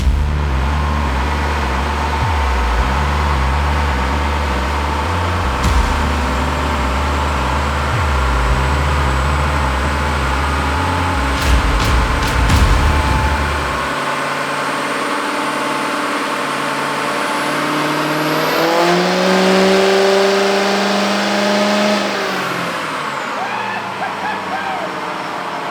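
A 2024 Chevrolet L5P Duramax diesel with a modified VGT turbo and 67mm setup drones loudly on a dyno, holding a steady heavy roar before the low end drops and the pitch sweeps up and back down.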